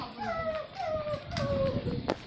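Several dogs in a village lane whimpering and yipping, thin rising and falling whines repeating close by over a low background murmur, with a sharp yelp near the end.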